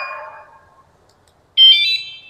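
A motorcycle anti-theft alarm gives two short bursts, a lower warbling tone first, then a louder, higher chirping tone after a brief silence.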